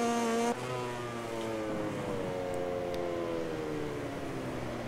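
Ducati motorcycle engine in the MotoGP 2020 racing game, a steady high revving whine with harmonic tones that drop and shift as the bike powers through a corner, loud and continuous with no talk.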